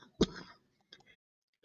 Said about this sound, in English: Sorry, I had another coughing fit.